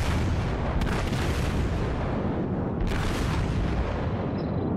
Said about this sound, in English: Start firing at this battleship now